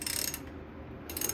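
A wrench cracks loose a tight bolt on the front brake assembly of a 2017 Ram 1500 pickup, giving a few close mechanical clicks and ratcheting creaks at the start and again near the end, with no talking.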